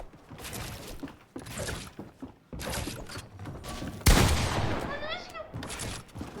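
Gunfire with a loud sharp burst partway through, amid noisy background commotion and bursts of talk from people nearby.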